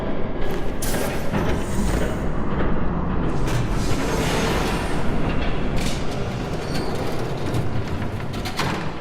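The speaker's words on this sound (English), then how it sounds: "There's a train coming." A train rumbles past in the Batman Telltale game, a loud, continuous roar with heavy low rumble and clattering bursts that holds steady throughout.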